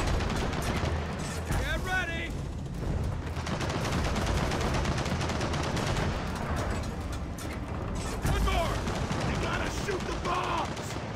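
Gears of War 4 co-op combat, with heavy sustained weapon fire and blasts rattling on throughout. Players shout over the dense, loud barrage.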